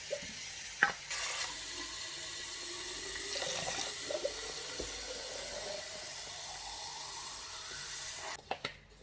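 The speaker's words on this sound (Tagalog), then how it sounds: "So, mag-iigib tayo ng tubig." Water being fetched at a cold lake in the Alps runs in a steady, close rush for several seconds, framed by a few light knocks and clunks at the start and finish.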